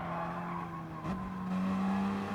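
Gr.3 race cars at Brands Hatch in Gran Turismo Sport, engines droning steadily with a brief tire screech and a rising engine note near the end, all close and continuous.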